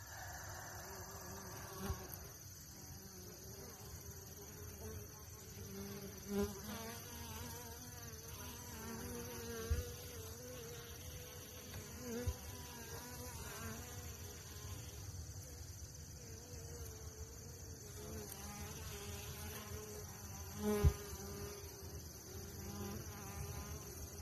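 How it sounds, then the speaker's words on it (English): Italian honeybees hum steadily inside an open hive during a calm hive check and feeding, a continuous close droning swarm sound with a few faint knocks and soft handling noises. "these are Italian honeybees, by the way"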